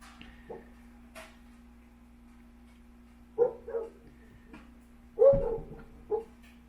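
Farmhouse dogs give several short barks and higher whimpering yips in separate bursts, sounding fairly close but moderate in level over a steady low hum, with no talking.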